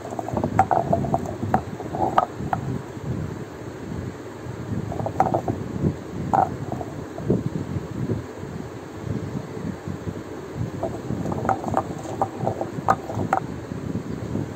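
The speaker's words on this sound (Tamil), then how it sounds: "இதையும் கல்லில் போட்டு நல்லா நைஸாக அரைச்சி எடுக்கணும்." Small onions are ground fine on a traditional village grinding stone for mutton curry, giving a steady gritty rolling rumble laced with scattered clicks and knocks, close up and continuous.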